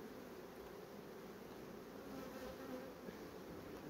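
Honey bees hum in a steady, dense drone inside a hive packed with honey, a continuous close buzzing with no voices.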